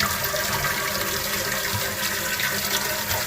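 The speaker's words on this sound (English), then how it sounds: "So this is going to be flush number 1, and I'm just looking for any leaks around the bolts or the gasket." A newly repaired toilet, fitted with new parts, flushes in a steady, loud rush of water that runs without a break through the whole stretch.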